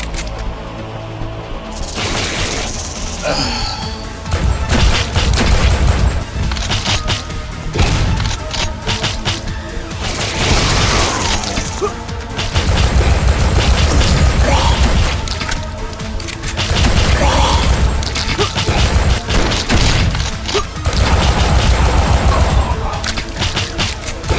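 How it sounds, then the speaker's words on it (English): Shotgun blasts from the retro-style first-person shooter Dread Templar, loud bursts of gunfire repeating in irregular clusters over a dense layer of game music and effects, with no speech. "Actually be using the shotgun since I have so much ammo."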